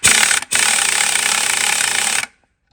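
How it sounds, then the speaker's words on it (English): Air hammer hammering at a stuck wheel hub on a Ford 9N tractor, a loud continuous rapid burst with a brief pause near the start, then cutting off abruptly into silence. "And just let me get my air hammer."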